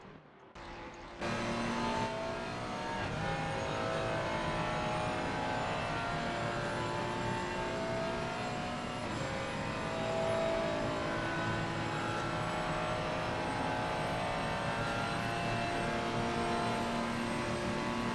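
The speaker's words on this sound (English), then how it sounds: "This is about as fast as he dare get the Ferrari to go." A Ferrari race car engine holds a steady high-pitched scream near top speed along the Mistral straight at Paul Ricard in a racing game, loud and unbroken apart from a brief rise at the start.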